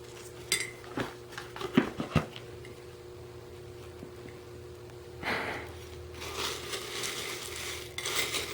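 Dry rat treat mix being stirred in a bowl at home, giving scattered clinks and scraping rustles, with a busy stretch early on and a denser run of gritty stirring near the end.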